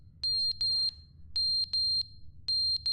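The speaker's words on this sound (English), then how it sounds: "Why is smoke alarm going off?" A smoke alarm in The Stanley Parable beeps in three clusters of high, piercing electronic chirps with brief gaps between them, over a low background hum.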